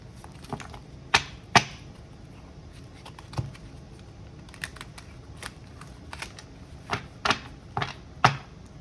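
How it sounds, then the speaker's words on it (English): Oracle cards being shuffled by hand, giving soft rustles broken by scattered sharp snaps and flicks at irregular intervals, close and fairly quiet, with no talking. "just make sure they're really shuffled"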